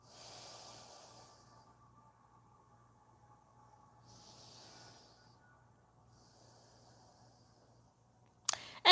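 Soft nasal breaths during a yoga stretch, several gentle inhales and exhales spaced a few seconds apart over a low steady hum, ending with a brief louder rustle.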